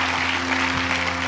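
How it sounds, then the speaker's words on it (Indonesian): Clapping from a church congregation fills the short span as steady, dense applause with a constant low hum underneath, and no voices break through. "Yang mau tepuk tangan, yang mau tepuk tangan,"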